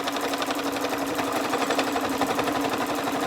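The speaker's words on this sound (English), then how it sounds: "When you arrive at the bottom folded edge, just finish there with a reverse stitch and remove the project from the sewing machine." A sewing machine runs steadily, stitching through ribbon on a fat-quarter fabric accessory roll, its fast, even mechanical whirr close and continuous with no talk.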